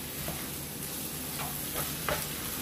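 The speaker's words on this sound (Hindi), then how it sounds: "मैगी मसाला इमेजिक अच्छे से मिक्स कर लिया, अब 2 मिनट पकाएंगे।" Mixed vegetables cooking in a pan with Maggi masala for a vegetable seekh kebab, a soft continuous sizzle with a few faint stirring scrapes, quiet and steady without talk.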